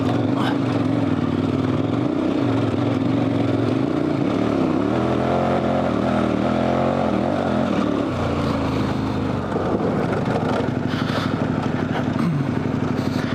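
Dual sport motorcycle on Heidenau K60 Scout tires running at speed in second gear, loud continuous engine drone with shifting pitch and wind roar, close, with a voice briefly over it.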